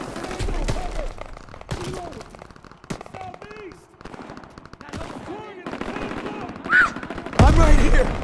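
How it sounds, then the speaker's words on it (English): Gunfire in the WWII shooter Call of Duty WWII, bursts of machine-gun and rifle shots echoing at mid distance, growing louder near the end, with someone speaking calmly over it. "Gunfire this way. Too risky."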